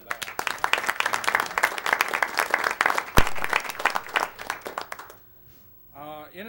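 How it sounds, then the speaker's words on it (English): A room at a board meeting breaks into applause for a student's award, steady clapping for about five seconds before it stops and a speaker resumes talking. "he definitely deserves a round of applause for"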